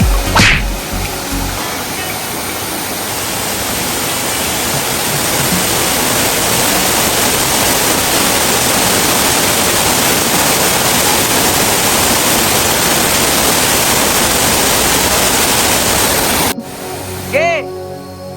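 Dinarayong Falls in Mulanay, visited in the summer dry season, pours with a loud, steady, unbroken roar of rushing water close by, which cuts away abruptly just before the end.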